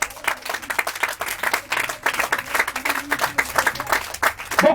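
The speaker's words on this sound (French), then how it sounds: "Est-ce qu'on peut acclamer le Seigneur?" A church congregation at a Sunday service breaks into sustained applause, many hands clapping densely and steadily at close range, with a few voices mixed in.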